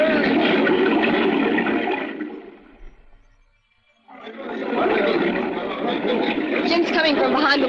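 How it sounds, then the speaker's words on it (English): Rushing waterfall roar in an old radio drama, a broad loud wash that fades to near silence midway, then surges back to full strength. "coming from behind the waterfall now"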